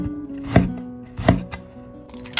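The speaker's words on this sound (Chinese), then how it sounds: "切成茄子丁。" Peeled eggplant is cut into small cubes on a board, two sharp knife chops about three quarters of a second apart, then a lighter tap, close and clear with no voices.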